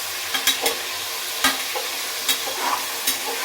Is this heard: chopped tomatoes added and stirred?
yes